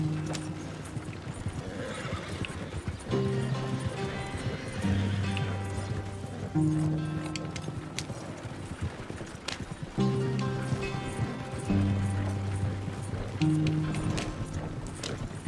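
A horse in Red Dead Redemption 2 gallops with steady rhythmic hoofbeats, backed by a repeating musical score that runs through the whole stretch.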